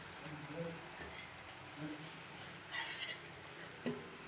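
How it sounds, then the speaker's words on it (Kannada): Tamarind rice being stirred and mixed in a pan with coriander leaves, giving soft scraping and shuffling sounds with a faint sizzle and a brief louder scrape near the end. "ಕೊತ್ತಂಬರಿ ಸೊಪ್ಪು ಹಾಕ್ಕೊಂಡು ಒಂದು ಸತಿ ಮಿಕ್ಸ್ ಮಾಡಿದ್ರೆ ರೆಡಿ ಆಗೋಯ್ತು."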